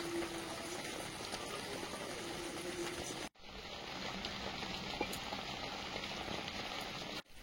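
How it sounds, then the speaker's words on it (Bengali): Rice boils vigorously in a pot, giving a soft, steady bubbling hiss that runs at a low level and breaks off in two brief dropouts. "ভাত ফুটছে খুব জোর।"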